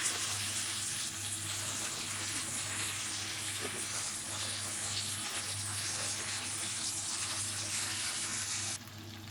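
Beef and vegetables sizzling in a hot pan for a Chinese-style beef sizzling dish, a steady, loud hiss of frying that carries on evenly throughout and eases slightly at the very end, with no voices.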